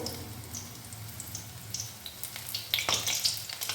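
Small drumstick flower pakoras studded with peas drop into hot oil on a low flame. A faint crackling sizzle swells into denser popping and spitting toward the end.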